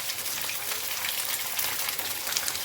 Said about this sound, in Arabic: هيك بس تقلها بشوية بالزيت